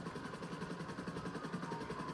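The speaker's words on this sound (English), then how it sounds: "there's a helicopter just coming in" Helicopter in GTA 5 coming in, a steady pulsing rotor chop with a low engine drone, continuous and fairly close for a couple of seconds.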